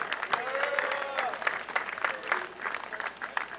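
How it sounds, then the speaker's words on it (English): Moderate applause greets a contestant at a baseball home run derby during a 2019 North Carolina American Legion state tournament: scattered, fairly quiet clapping from a modest crowd, with a few voices mixed in. "Give him a big round of applause."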